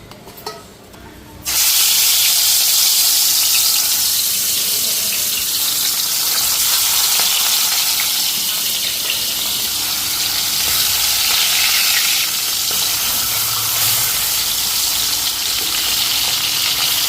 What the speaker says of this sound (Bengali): তো এইদিকে মাছটা এখন ভাজা বসাই দিই কড়াই বসাই দিচ্ছি